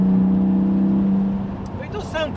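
A Porsche 718 Spyder's engine rasps and drones from inside the moving car, a steady muffled roar that shifts pitch as the revs change, with someone talking over it near the end.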